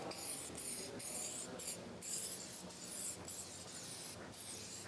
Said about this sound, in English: I like to spray it on kind of thick